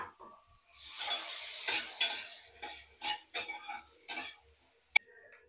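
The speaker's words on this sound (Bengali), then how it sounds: "পেঁয়াজটা হালকা ভাজা ভাজা হয়ে গেছে, এবার এর মধ্যে আমি টমেটো আর ক্যাপসিকামটাও দিয়ে দেবো।" Onion, tomato and capsicum fry in a pan while a spatula stirs and scrapes, giving bursts of sizzling with sharp clinks of utensil on metal, close and irregular, with a quiet gap between strokes.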